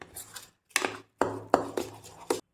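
Banana pudding batter being mixed in one direction with a utensil in a bowl, heard as five or six close, clattering scraping strokes separated by short pauses, with no voices.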